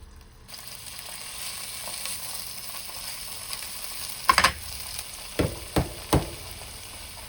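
Tofu frying in a pan preheated over medium-low heat, a soft, steady sizzle under a few sharp clicks and clanks from handling the pan near the end.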